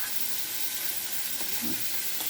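Garlic and ten crushed green chillies frying in hot oil in a pan, a steady soft sizzle and crackle with a brief brighter pop near the end, no talk.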